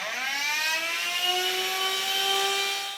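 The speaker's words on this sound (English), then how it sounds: "little cordless vacuum." Small cordless vacuum cleaner in a sewing studio, running steadily with a high whirring motor whine whose pitch rises slightly, close and alone.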